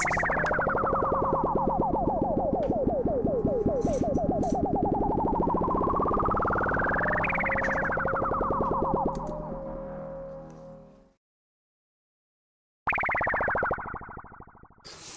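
Synthesized laser zaps made in FL Studio, pitch sweeping down then up, loud and electronic, repeating twice before cutting to silence, then a brief final burst.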